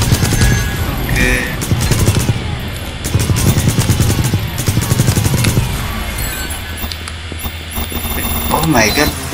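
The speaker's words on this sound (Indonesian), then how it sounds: "ada yang nembak tuh" Gunfire crackles in bursts through a robot combat game, sustained rattling shots mixed with crashes and booms, fairly loud, with a person talking over the action.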